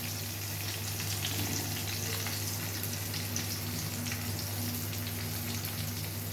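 Potatoes and fish frying in hot fat, a close, steady sizzle with crackling pops spread throughout, over a low constant hum and no speech.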